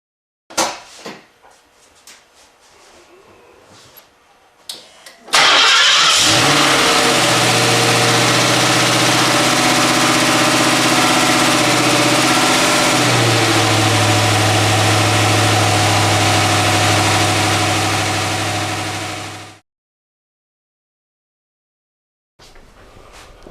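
A Ford engine with EEC IV speed-density control rewired to mass air cranks and catches, then settles from a loud fast idle into a steady lower idle for about fourteen seconds before shutting off, with faint handling noises before the start.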